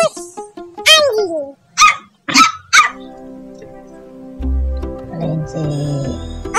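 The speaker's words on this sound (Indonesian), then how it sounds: "Anjing. Bagus. Anjing." A few short dog barks sound in quick succession in a children's animal-learning setting, close and fairly loud, with a person talking before and between them.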